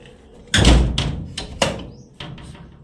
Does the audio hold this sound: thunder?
no